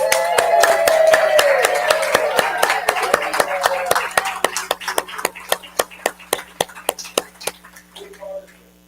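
A church congregation applauds a man for earning his master's degree: dense clapping under voices gradually thins into slower, spaced single claps that trail away near the end.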